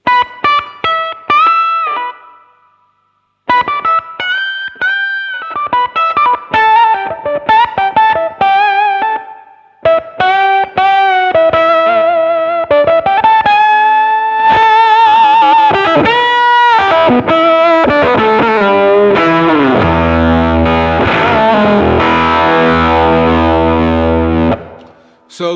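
Electric guitar through a JAM Pedals Octaurus octave fuzz pedal, single-note riffs and bends growing from thin and clean into a thick, buzzing, saturated roar, loud and continuous with brief pauses.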